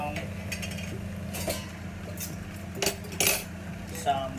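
Glass noodles with prawns, scallion and lime are tossed in a wok, with scattered metallic clinks and scrapes of a utensil against the pan over a low steady hum, fairly quiet and without speech.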